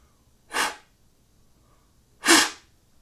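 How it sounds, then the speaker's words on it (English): Two breathy blasts into a seashell, short and airy bursts separated by a pause of over a second, fairly close and otherwise quiet. "Ugg blow into shell."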